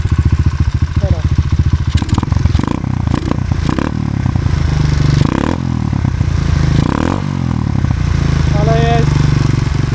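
Loncin 110/125 motorcycle engine fitted with a new exhaust idles with a steady, close putter that occasionally rises in pitch, while someone speaks over it throughout.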